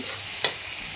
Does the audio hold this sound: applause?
no